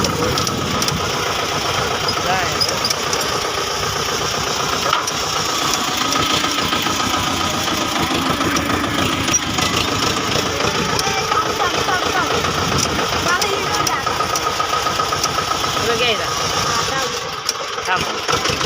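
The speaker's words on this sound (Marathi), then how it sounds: "आता मग आम्ही तर ट्रॅक्टर चालवणार आहे" A diesel engine idles nearby with a steady chugging rumble, while people talk over it throughout.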